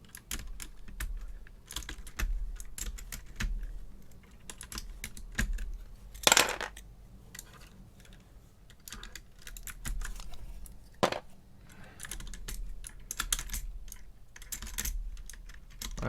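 Cheap ABS OEM-profile keycaps pulled off a keyboard roughly and quickly, giving a steady run of light plastic clicks and clacks with a couple of sharper snaps, close by and with no talking.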